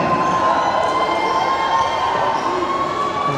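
High school boys' basketball crowd at a senior night game, a dense, loud roar of cheering and shouting held steadily throughout, with a shrill whistle-like tone sustained over it.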